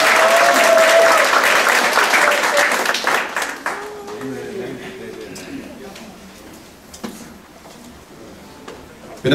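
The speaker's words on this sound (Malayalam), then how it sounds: "എല്ലാവർക്കും ഒരു നല്ല കൈയടി കൊടുക്കുക" An audience at a Malayalee family night in the New York area applauds for their sound engineer, starting as dense, loud clapping for about four seconds, then thinning into scattered claps that fade away.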